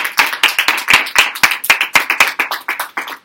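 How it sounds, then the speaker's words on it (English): Quick, sharp hand claps at a break in a religious lecture, a small group clapping at a brisk uneven rhythm, close and fairly loud, with no talking. "give God a round of applause"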